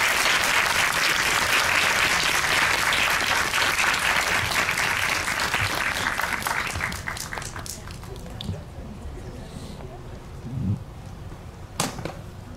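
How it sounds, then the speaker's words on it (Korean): Audience applause at a Korean film premiere-day guest talk in a Megabox cinema, loud and sustained dense clapping for about seven seconds, then tapering to scattered claps as it fades. "여러분 큰 박수 부탁드릴게요"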